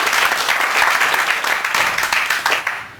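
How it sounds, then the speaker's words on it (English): An audience at an early-morning technical conference session breaks into loud, close applause, a brisk burst of many hands clapping that lasts about three seconds before tailing off. "You should give yourselves a round of applause for turning up the first thing in the morning"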